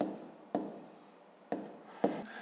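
A pen writing by hand on paper during a fifth-grade division exercise, soft scratchy strokes close by broken by three sharp taps at roughly even intervals, with no talking.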